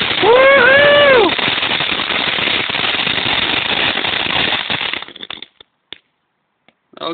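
Consumer fireworks on 82nd Avenue in Portland, Oregon crackle in a dense, loud barrage, a whistling shell rising at the start, then thinning into scattered pops before a final burst, with a voice briefly calling out.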